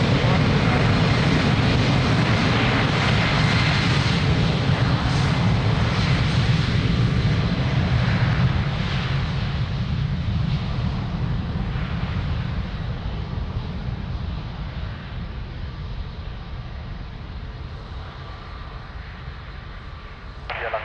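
An airliner takes off from runway 02 at Lisbon Airport, its jet engines roaring loud and steady before slowly fading into the distance as it climbs away.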